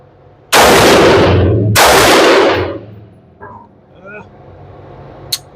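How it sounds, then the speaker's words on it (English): Two loud, sharp rifle shots from a Geissele Super Duty AR15 in 5.56 at an outdoor range, about a second apart, each ringing out and decaying, followed by faint voice sounds and a small click. "I'm supposed to be shooting C targets"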